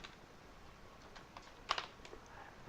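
Computer keyboard being typed on while entering text, a few soft scattered keystrokes with one brief clustered burst, quiet and close in a still room.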